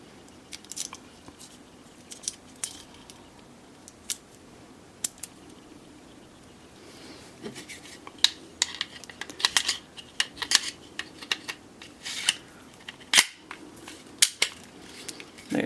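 A Glock 43 pistol is put back together by hand, producing sparse, sharp clicks and snaps that grow more frequent toward the end, close but quiet, with no talk.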